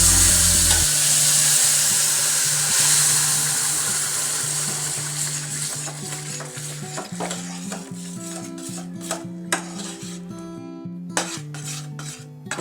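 Ground jackfruit being stirred in a pan for halwa, with steady scraping and clinking of a utensil against metal over a soft sizzle, close and continuous, no talk.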